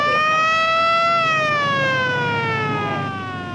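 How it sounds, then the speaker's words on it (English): A single loud warning siren before a building demolition blast wails in a long sustained tone that slowly falls in pitch, heard from a moderate distance with no talking. "Two sirens at 2 minutes. One siren at 1 minute."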